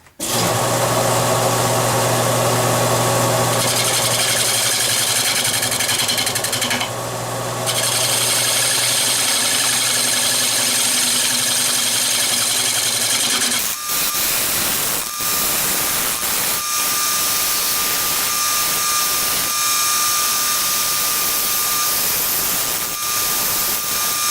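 A wood lathe spins steadily as a gouge makes shear cuts on a turning, a continuous close rasping and scraping that runs throughout, with the character of the cut shifting partway through.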